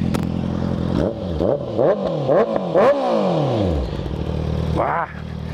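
Honda CB650F motorcycle with a full 4-into-1 exhaust revving up and down in several close, loud blips, the engine note rising and falling in quick succession before a final rev near the end.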